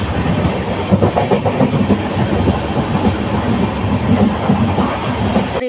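Express passenger train running on rails, a steady loud rumble with rhythmic clickety-clack of wheels over rail joints, heard continuously from on board with no voices.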